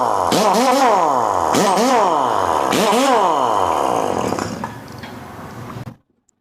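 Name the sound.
1-inch Wheeler pneumatic impact wrench running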